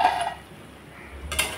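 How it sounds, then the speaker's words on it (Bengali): A metal lid lifts off a cooking pot of spiced masala being fried; a brief clatter at the start, a quiet stretch, then another short metallic rattle near the end, close and fairly loud. "2 মিনিট পর আমি ঢাকনা খুলে দিলাম।"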